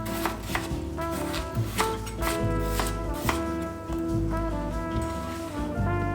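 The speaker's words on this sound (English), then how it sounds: "I then chopped them up in medium-sized cubes" A knife chops potatoes into medium cubes on a cutting board in quick irregular taps, heard over soft background music.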